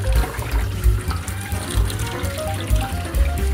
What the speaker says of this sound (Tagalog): first, hugasan muna natin ang ating kawali